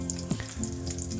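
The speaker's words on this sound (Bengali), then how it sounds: "এবার খুন্তির সাহায্যে আর এক দিকটাও উল্টে আমি দিয়ে দেব, যাতে করে অপর দিকটাও ভালোভাবে ভাজা হয়ে যায়।" Food frying in a pan and flipped over with a spatula: constant close sizzling with a brief scrape and clink of the turning utensil.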